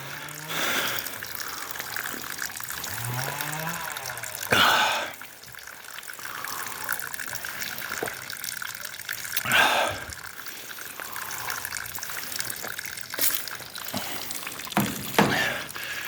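Water from a holy spring runs and trickles steadily close by in the village of Ulashkivtsi, a soft continuous flow with occasional louder splashes as it is disturbed.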